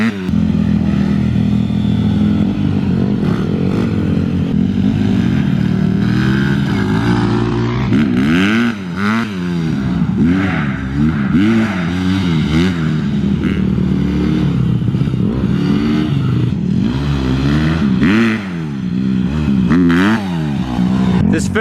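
A Honda CRF150 dirt bike engine revs hard through a wheelie, loud and close, with rising and falling pitch sweeps as the throttle opens and closes repeatedly over a sustained run.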